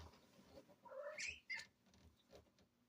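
Cats disturbed by a bouncing mattress let out a short, agitated yowl of rising cries near the listener, followed by faint rustling in a quiet room.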